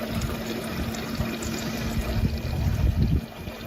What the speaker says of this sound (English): That's a terrible flush.